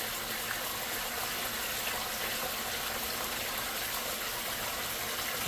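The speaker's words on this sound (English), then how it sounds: "That's moving a pretty good bit of water." Water pumped through Gold Cube and Gold Fox mini sluices at an Alabama gold camp: a steady, hissing rush of flowing water with a churning gush underneath, continuous and fairly faint, no talk.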